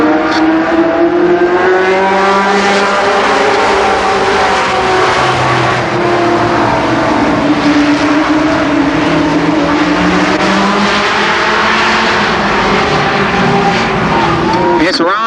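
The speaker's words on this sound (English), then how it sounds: "They will race 10 laps, 10-lap heat race for the late models." Late model race cars run a 10-lap heat race at Columbus Motor Speedway, engines roaring and rising and falling in pitch as cars pass nearby, loud and continuous over a crowd-and-commentary backdrop.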